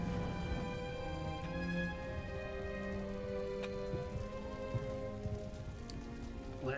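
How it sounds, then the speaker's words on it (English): Steady rain falls in the video game Empire: Total War, a dense patter heard throughout under sustained musical tones and occasional faint battlefield sounds. "Bad luck about the rain."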